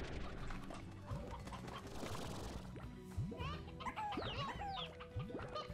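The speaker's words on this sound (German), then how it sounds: "Ich höre doch hier die Hühner." Chickens cluck and squawk in the video game Slime Rancher, several bird calls rising and falling over busy game sounds with footsteps, and a person talks at times.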